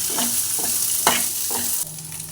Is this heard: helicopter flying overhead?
no